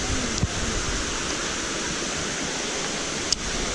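The Wang Kan Lueang waterfall in Lopburi, Thailand, runs full in the rainy season, giving a constant broadband rush of falling water. Two brief faint clicks break the steady roar, and no one speaks.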